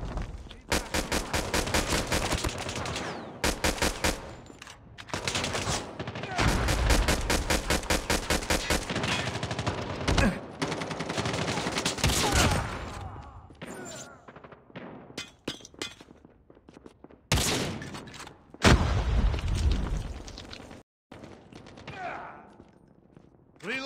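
Gunfire from the Call of Duty video game with sniper rifles, loud volleys of rapid repeated shots broken by short pauses, with sharp cracking bursts throughout.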